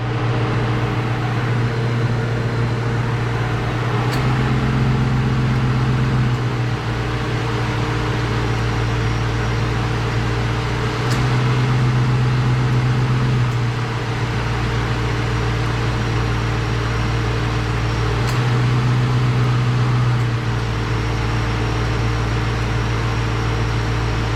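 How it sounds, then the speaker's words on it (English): A Ford Mustang engine idles with the air conditioning running during a refrigerant recharge, a steady loud drone and fan whir with periodic low cycling swells, no talking. "I'm going to start the car, turn the AC on, and open the low side."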